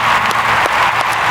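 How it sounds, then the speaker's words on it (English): A steady, dense round of applause from a school gathering fills the moment, many hands clapping together at close range without talk. "if I could just get a round of applause to anybody who served on our technology learning pod"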